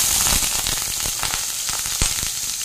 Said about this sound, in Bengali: তেলটা আমার গরম হয়ে গেছে, এবার আমি একে একে ভেজিস গুলো দিয়ে দিচ্ছি। আলুটা দিয়ে দিলাম